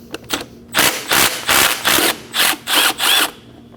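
A ratchet with a 12mm socket backs a bolt out of the intake manifold area on a 2011-2016 Kia Optima, making about seven close, loud bursts of rapid clicking in a steady rhythm with short gaps between strokes.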